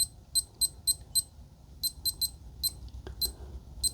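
Electronic beeps in quick pairs and short runs, crisp and high-pitched, from a digital torque wrench locking in a set value, with a faint clink partway through against a low background hum.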